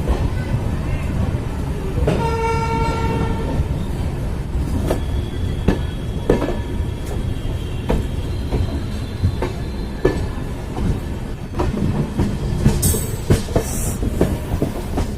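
Steady clickety-clack of the Karmbhoomi Express passenger train running on rails between Saharanpur and Moradabad, heard from inside the carriage as a continuous rumble with rhythmic wheel beats, brief whistle-like tones and a faint squeal.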